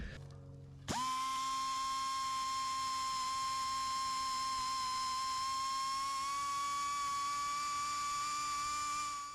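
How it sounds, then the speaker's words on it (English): A die grinder cleans up a rough oxy-cut hole in steel on a steel sailboat during rudder bearing installation. After a brief low start it spins up to a loud, steady high-pitched whine with strong harmonics that holds almost unchanged to the end. "we just use the die grinder to clean it all up"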